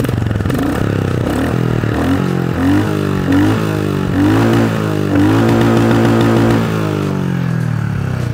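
A Royal Enfield Classic 350 motorcycle engine cranks, catches and runs close by, its single-cylinder thump rising through several revs before settling to a steady idle.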